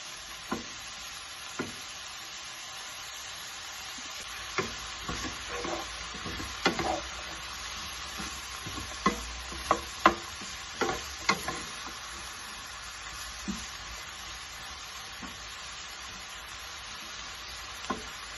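Vegetables sizzle steadily in an oiled pan for chicken fried rice, with a constant frying hiss broken by scattered clicks and scrapes of stirring, close and moderately loud, no talking.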